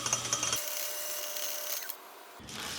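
A lathe chamfers the end of a cast metal part for a Gingery metal shaper's scotch yoke, a close steady hiss of cutting for about two seconds before it eases off.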